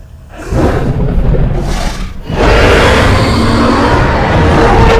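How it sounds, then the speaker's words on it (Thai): Loud, sustained roar of the Scarlet Indominus dinosaur in the Roblox game Jurassic Blocky, rising after a short gap and holding full and rough to the end, with no talk over it. "เสียงคำรามที่หนึ่ง"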